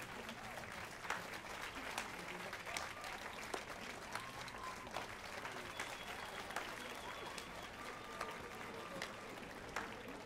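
Crowd applause from the Witcher 3 video game, steady dense clapping that carries on throughout, heard a little distant with faint voices mixed in.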